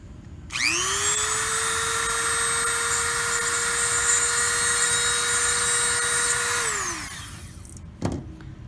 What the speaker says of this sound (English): I'm just gonna go ahead and take the Dremel and drill a hole.